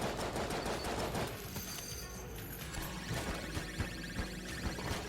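Rapid gunfire in the video game Enter the Gungeon, dense bursts of shots and impacts layered over game music, continuous and busy with sharp repeated cracks throughout, no talking.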